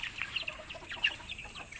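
Two mother hens give soft, scattered clucks nearby, short clipped calls standing out over a quiet farmyard background.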